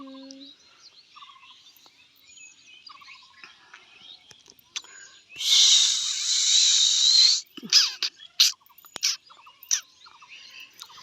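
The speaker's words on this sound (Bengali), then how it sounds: "পাখির শব্দগুলো শুনছো একবার" Birds call outdoors in short chirps and whistled notes scattered near and far, with a burst of loud hissing noise in the middle and a few sharp chirps after it.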